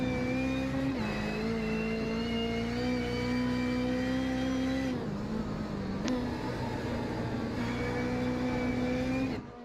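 Onboard a rallycross race car at a NASA RallyCross round at Lime Rock, the engine drones loudly and steadily, its pitch holding and dipping briefly between gear changes, then climbing again before cutting off at the very end.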